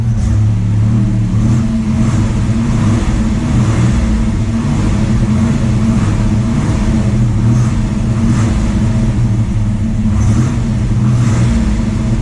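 Buick Grand National engine revving steadily and loudly up close, freshly fitted with new spark plugs and new oil, a continuous throaty engine roar held for about twelve seconds with no talking.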